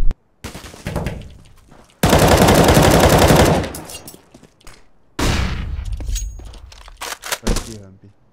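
Rapid automatic gunfire in the CS:GO video game, with dense sustained bursts and single sharp shots, loud and close, with a player talking intermittently between the volleys.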